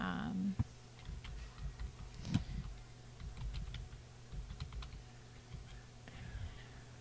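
Typing a search on a computer keyboard: faint, quick runs of soft key clicks in an irregular rhythm, with a low background hum and a little quiet speech-like noise mixed in.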